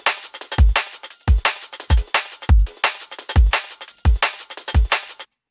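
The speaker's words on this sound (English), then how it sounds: "Then add the compressor, solid bus compressor from Native Instruments." Drum loop with a bus compressor applied, punchy kicks and bright hi-hats or snares in a steady, loud, close groove with evenly spaced hits, ending abruptly.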